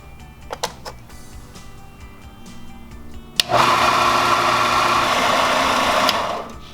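An electric belt sander, set up for sanding a foam puppet shape, is switched on after a few handling clicks and runs with a loud, steady motor whir and belt hum until it winds down at the end.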